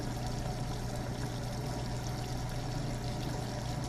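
Water running steadily from a tap in a bathroom while an item is held under it, a constant full hiss and splash that is close and fills the whole moment, with no voices.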